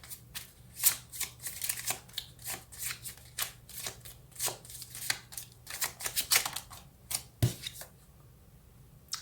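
Tarot cards being shuffled by hand, heard as close, crisp bursts of riffling and flicking that repeat in an uneven rhythm with short pauses between them.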